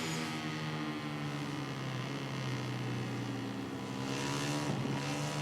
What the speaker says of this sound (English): I can hear their engine much more than I can hear mine